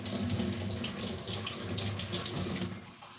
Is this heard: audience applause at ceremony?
no